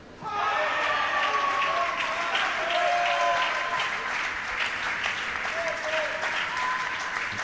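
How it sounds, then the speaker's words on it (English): Crowd applause and cheering at a para table tennis European championship, loud and sustained throughout with no pauses. A voice can be heard under the noise. "Just got a bit of noise there in the crowd"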